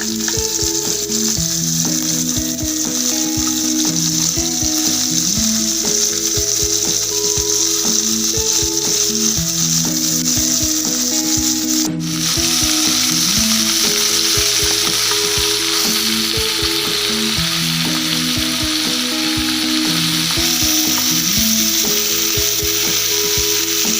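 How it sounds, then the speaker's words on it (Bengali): Prawns sizzling in hot oil in a wok, a steady loud crackle with occasional clinks of stirring, continuous for the whole stretch with a brief dip midway. "কড়াই বসিয়েছি, তেল গরম হয়ে গেছে, চিংড়ি মাছগুলোকে হালকা করে ভেজে নেব।"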